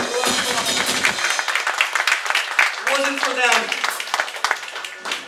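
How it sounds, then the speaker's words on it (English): An audience at a hardcore punk show at Mohawk Place in Buffalo, NY claps and cheers in a dense, loud burst that thins into scattered claps and shouting voices. "So let's give it a round of applause for these fucking guys."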